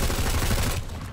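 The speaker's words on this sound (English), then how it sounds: "Put bullets into Wayner until he dies." Sustained rapid gunfire from a MAX weapon in the game Planetside 2 during a training drill, a dense loud burst of shots that stops sharply near the end.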